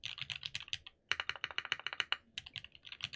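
Rapid keystrokes on a Fox Lab Leaf 65 keyboard with PBT keycaps clack close and crisp in quick, uneven bursts, with one brief pause before the typing resumes.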